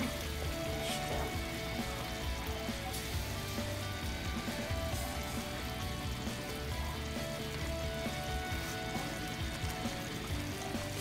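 Shrimp in coconut milk sizzle steadily in a hot pan, a constant bubbling fry that runs loud and unbroken, with no voices over it.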